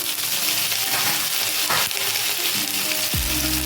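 Nigella seeds hit hot oil in a pan and sizzle with a bright, continuous crackling hiss, close and loud, briefly disturbed by a stir and a clink near the end.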